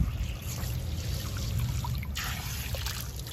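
Water from a pond fountain nozzle sprays and splashes steadily, a continuous trickling, pouring wash with no breaks, fairly close and moderate in level.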